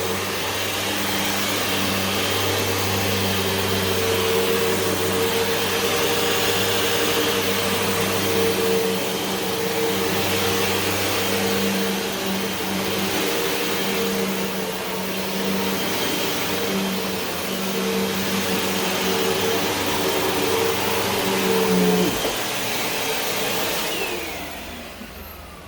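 A Hoover and a Zoker vacuum cleaner run side by side in a steady, loud motor whine with a droning hum, cutting off near the end.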